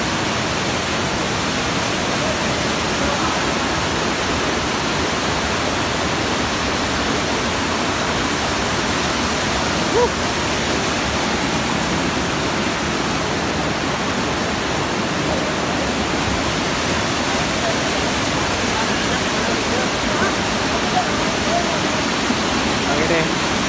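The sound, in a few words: waterfall at Curug Walet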